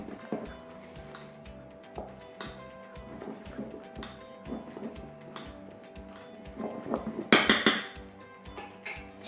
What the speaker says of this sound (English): And then what I'm going to do is just give them a good mix together.